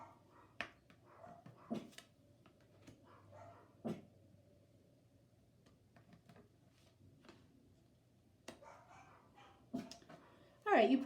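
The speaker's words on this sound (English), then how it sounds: "you probably hear my dogs barking in the background" Dogs bark in the background indoors, giving several faint, scattered woofs and yips with quiet gaps between them and a louder burst at the very end.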